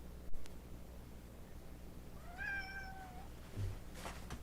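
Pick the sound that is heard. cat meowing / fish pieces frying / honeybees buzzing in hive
cat meowing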